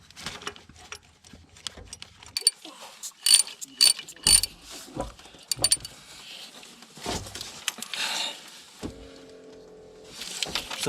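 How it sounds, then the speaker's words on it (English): A valve spring compressor working on a 2005 Dodge Ram 5.7 Hemi with a broken valve spring, giving sharp metallic clicks and ratcheting snaps in irregular bursts, with a brief low mechanical hum near the end. "So watch this spring compress as I do this."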